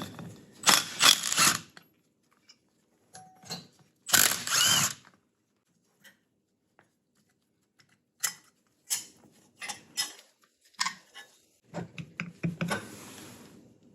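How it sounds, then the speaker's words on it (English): An impact wrench rattles loose the alternator pulley nuts on a VW Mk1/Mk2, with several loud hammering bursts of a second or so each, separated by silence and a few short taps. "For this, I'm just gonna use an impact to crack these loose."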